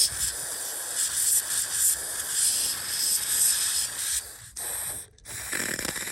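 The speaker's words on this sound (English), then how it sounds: "Now we'll get it with some throttle body cleaner." Throttle body cleaner is sprayed from an aerosol can onto the hood latch of a Toyota Highlander (Kluger). A close, loud, steady hiss runs for several seconds, then breaks off in short bursts with brief gaps.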